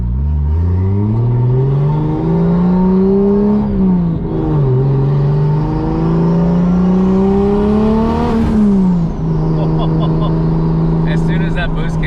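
A Toyota GR86 fitted with a 2JZ engine pulls hard through the gears, its turbocharged exhaust rising in loud, climbing sweeps with quick shifts between pulls, ending in chirping and whooshing from the boost.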